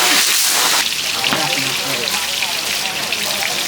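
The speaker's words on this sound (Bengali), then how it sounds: "হ্যাঁ আমরা এখন মাছটা ভাজিয়ে নেবো," Fish, a large koi, frying in hot oil in a pan, a dense continuous crackling sizzle that stays loud and steady throughout.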